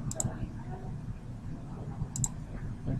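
A computer mouse clicks sharply a few times, a quick double click near the start and another a couple of seconds later, close and crisp, with low murmuring noise underneath.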